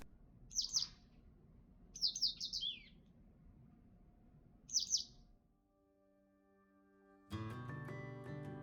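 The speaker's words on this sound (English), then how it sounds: "Looking up at the sky, I could hear birds calling." Birds call outdoors in three short bursts of high chirping over a low background hum, followed by a sustained tonal sound and then a louder harmonic chime at the end.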